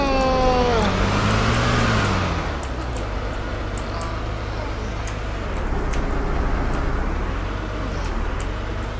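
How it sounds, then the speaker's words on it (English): A couple of cars pass by in a Battlefield match, a broad engine whoosh sweeping through early on and then fading into steady road-like rumble, with faint ticking and a voice talking over it. "Oh, there's a couple cars."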